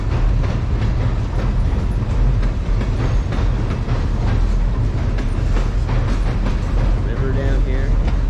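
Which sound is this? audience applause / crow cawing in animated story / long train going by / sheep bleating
long train going by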